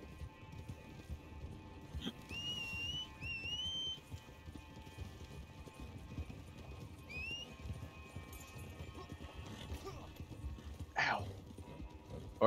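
A horse's hooves clip-clop at a steady pace in a video game, faint and continuous beneath rising whistled calls and a sharp, brief burst of noise near the end.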